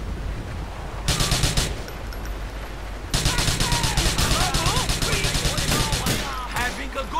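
Rapid bursts of automatic gunfire from Grand Theft Auto IV, one short burst followed by a longer sustained volley of loud, rhythmic shots with game ambience between.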